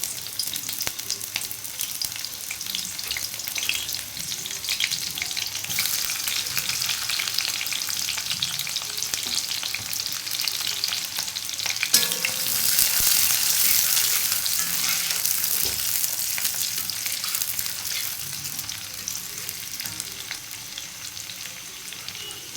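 Chopped garlic sizzles and crackles steadily in hot oil in a wok, a dense continuous frying hiss that swells briefly louder midway, with no talking.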